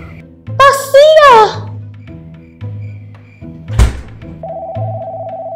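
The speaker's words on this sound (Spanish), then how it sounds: "Mi teléfono suena." A mobile phone starts ringing with a steady, repeating electronic tone near the end, after a voice, short thumps and a brief burst of noise.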